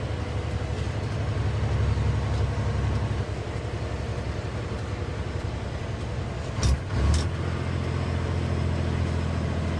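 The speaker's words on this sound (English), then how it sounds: "So the exhaust's a little bit louder. It's not being filtered through everything like that." Paystar 5600 TS diesel truck idling and running through a plain muffler, a steady low engine rumble and exhaust drone throughout, with a brief clunk near the end.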